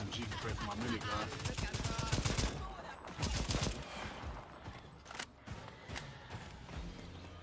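Minigun and SMG fire in the co-op shooter Second Extinction, bursts of rapid gunfire with sharp individual shots, fairly loud and dense, continuing through the clip.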